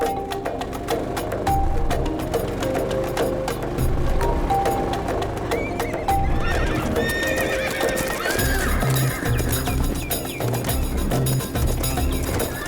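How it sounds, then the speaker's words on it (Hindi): Several horses at a horse market neigh and whinny while their hooves clip-clop over hard ground in a busy, rhythmic patter, close and fairly loud. "इतने सारे घोड़े यहाँ कैसे?"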